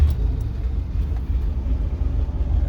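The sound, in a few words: old RV 360 engine running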